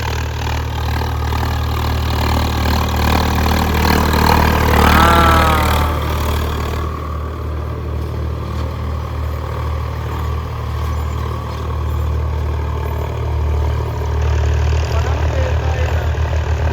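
A Swaraj 855 tractor engine runs loud and steady with a deep throbbing idle, close by, continuing for the whole stretch with brief voices over it.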